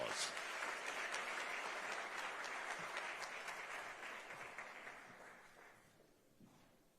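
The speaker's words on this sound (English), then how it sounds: "Let's give them a round of applause." A crowd claps in a dense, lively round of applause that gradually thins and fades out toward the end.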